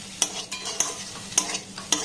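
Boiled potato being worked together with other ingredients by hand for a potato and wheat flour snack, soft rhythmic squishing and clicking strokes repeating about every half second, close and quiet, no talking.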